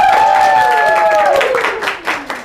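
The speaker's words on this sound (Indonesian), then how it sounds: "Tepuk tangan." Clapping from a game-show audience with the film cast, heard under a sustained sliding tone that falls away, as scattered claps and crowd noise grow more distinct toward the end.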